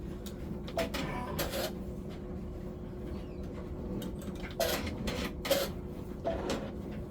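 Embroidery machine stitching an OESD tiling scene block, a steady close mechanical whir with repeated rasping thumps and bursts of needle clatter, no talking.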